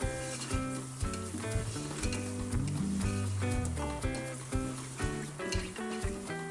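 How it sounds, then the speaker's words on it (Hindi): Spices and mutton paya fry in a pan with a steady sizzle, joined by repeated clinks and scrapes of stirring; tonal background music plays throughout. "तमाम मसाले डालने के बाद हम इसको अच्छी तरह भून लेंगे"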